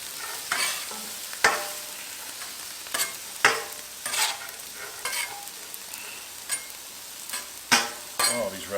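Shrimp stir fry cooks on a Blackstone griddle, with a spatula striking and scraping the steel at intervals over a constant close sizzle. The clatter is sharp and rhythmic, and no one speaks.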